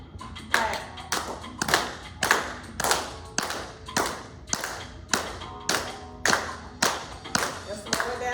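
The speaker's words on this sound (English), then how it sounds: "Clap." An audience claps along in unison during a talk on clapping and mental health, sharp group claps landing in a steady beat roughly every half second, loud and close, with no talking over them.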